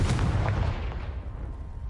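Blasting spell explosion in a video game, hurled at a pile of debris: one loud, close boom with a rumbling low-end tail that fades over two seconds.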